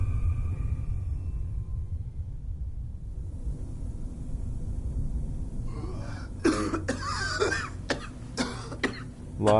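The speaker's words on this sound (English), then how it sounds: "Lots of coughing" A low rumbling hum gives way to a burst of harsh coughing in a video game, several loud hacks in quick succession, close up.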